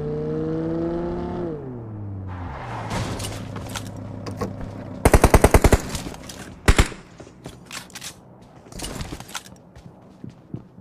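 Gunfire in a multiplayer shooter match: after an engine-like hum fades, a tight rapid burst of shots rings out near the middle, followed by scattered single shots and later another short burst, all loud and close.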